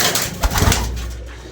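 Pigeons from a flock of about 26 kept by a pigeon fancier coo in low, repeated murmurs, a close and steady warble with a few louder pulses midway.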